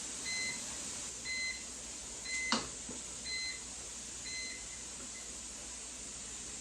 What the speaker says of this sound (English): Okay, the timer has gone off.